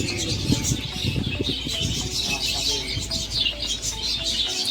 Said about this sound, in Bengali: এটা ককাটিল বলে কি পাখি আছে দেখুন, এই একসঙ্গে সব বসে আছে